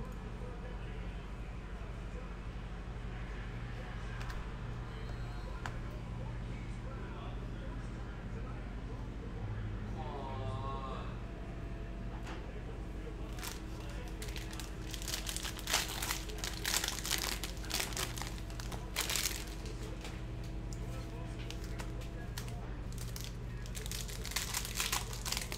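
Printed paper from a basketball card-break list is torn and crumpled up close, giving loud, ragged rips and crinkles that come in bursts over a low background hum.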